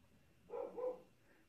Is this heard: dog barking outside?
yes